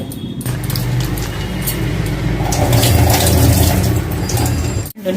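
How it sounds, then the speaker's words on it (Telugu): Tamarind being washed by hand in a bowl of water for a fish curry: steady sloshing and splashing with a trickling, running-water texture that carries on without pause, ending in a brief quiet dip. "దీన్ని ఫస్ట్ మనం వాటర్లో శుభ్రంగా క్లీన్ చేసి పెట్టాలి."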